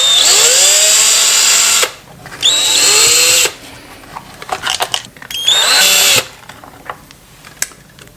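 An electric hex driver backing screws out of a Traxxas Rally ST RC car during a brushless upgrade, three loud whining bursts with rising pitch separated by pauses filled with small clicks and rattles.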